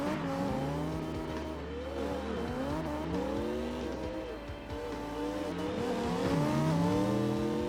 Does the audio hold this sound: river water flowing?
no